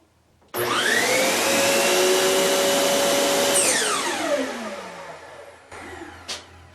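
A workshop vacuum cleaner beside a chop saw switches on abruptly, running loud and close with a rising whine, then powers down as its pitch falls away.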